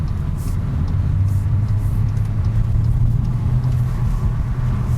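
A 2022 Cupra Ateca 300 bhp family SUV is driven hard around a corner, its engine giving a continuous deep rumble from inside the cabin that holds steady throughout.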